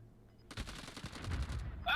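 In a battle royale video game, a rapid burst of automatic gunfire rattles off in quick repeated shots, fairly distant and subdued, then cuts off abruptly.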